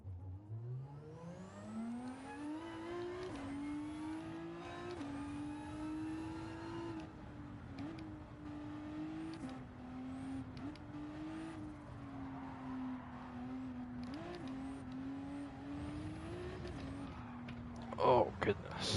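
Race car engine in Gran Turismo 7, holding a steady droning pitch that climbs and dips through gear changes, loud and continuous, with a burst of louder noise near the end and some talk over it.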